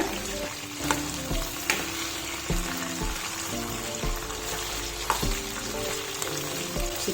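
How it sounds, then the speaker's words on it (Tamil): Chicken pieces sizzle and crackle steadily as they fry golden in a pan for a simple chicken fry, with occasional clunks and scrapes as the pieces are turned. "நல்லா கோல்டன் கலரில் நல்லா ஃப்ரை ஆகிட்டு இருக்கு"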